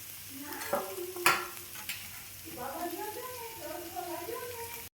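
Ground peanut powder being stirred into a frying pan with a spoon, sharp scraping strikes early then steady soft stirring and light sizzle, close, with a voice speaking over it.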